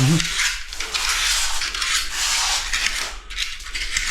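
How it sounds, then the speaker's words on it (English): Glue still green on an envelope being scraped, a continuous loud rasping rub lasting several seconds with a brief dip near the end, close up and without talk. "you just give your glue a little bit of a scrape"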